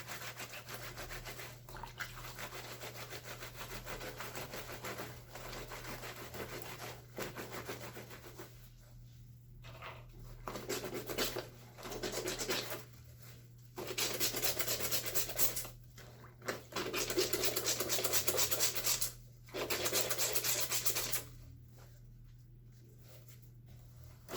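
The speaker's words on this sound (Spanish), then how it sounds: "Y con el jabón vamos a estregarlo." Fabric stained with period blood being scrubbed with soap by hand, rough rubbing strokes in bursts of a second or two separated by pauses, close and moderately loud, over a steady low hum.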